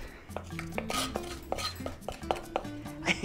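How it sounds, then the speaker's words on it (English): Spiced oil base scraped out of a pot with a utensil, a string of close metallic scrapes, clinks and knocks in an irregular rhythm, fairly quiet with no talk. "That sounded like a scrape, didn't it?"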